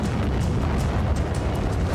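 A loud, sustained roar from an explosion in the war in Ukraine fills the short stretch, rumbling and continuous with no pause and no voices.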